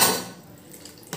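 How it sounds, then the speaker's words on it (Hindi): Water poured from a vessel into a pot of thick khichdi on the stove, a brief splashy gush at the start that settles into a low wet trickle and a faint clink near the end. "इसमें ज़्यादा नहीं थोड़ी सी पानी ऐड करेंगे"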